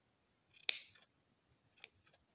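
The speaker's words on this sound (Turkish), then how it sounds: "Bunu mümkün olduğunca büyük makas kullanın. Küçük makaslarla kesmiyor." Large scissors snip excess yarn from a crocheted beanie: one sharp, close cut followed by a fainter second snip, quiet between them.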